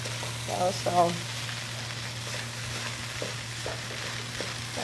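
Spanish rice with salsa is stirred in a pan, a soft continuous sizzle with light scraping under a low steady hum, with a few brief faint voice-like sounds early on.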